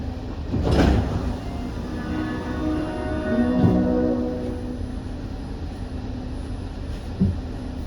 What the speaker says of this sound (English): the screen doors opening and closing with the train doors